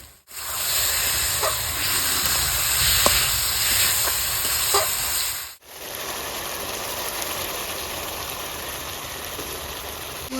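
A kitchen mixer grinder blending tomatoes with water runs with a steady whirring hiss, stops briefly partway through, then starts again and continues evenly.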